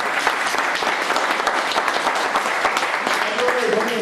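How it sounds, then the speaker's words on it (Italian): Audience applause at the 2010 national Pleinair festival in Sant'Agata di Puglia, a loud, dense patter of clapping hands that keeps a steady pace for the whole four seconds. "Io comunque dedicherei un applauso a chi è."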